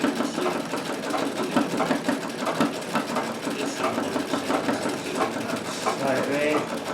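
A sewing machine embroiders thick lines on a Yucatan-themed table runner, its needle chattering in a fast, steady mechanical rhythm close by with slight variations in pace.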